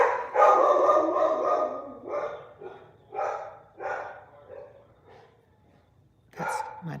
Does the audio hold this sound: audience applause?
no